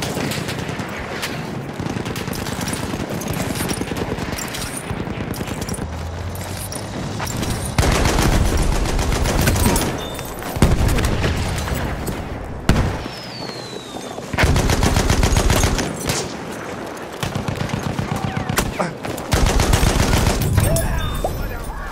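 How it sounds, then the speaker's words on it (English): Battlefield 1 battle with sustained bursts of enemy machine gun fire alongside heavy rifle shots and gunfire, loud and close, continuing almost without pause through the scene, with brief muffled voices in the mix. "Enemy machine gun, sight it!"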